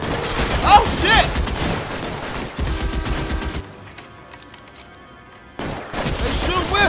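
Gunfire from the video game L.A. Noire comes in dense bursts of shots with a lull in the middle, and a person talks over it.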